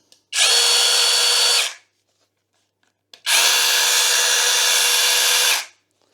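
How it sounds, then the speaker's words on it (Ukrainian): A Grosser cordless battery chainsaw from a garden set, with a 20 cm bar, runs in two steady bursts close by: about 1.3 seconds, a short pause, then about 2.3 seconds, with no talk. "Підключаємо батарею, натискаємо курок та можна йти працювати."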